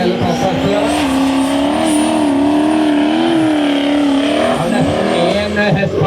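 Turbocharged Chevrolet LS V8 in a lightweight Formula Offroad race car, running loud and steady with a rising and falling engine note throughout, while someone talks over it.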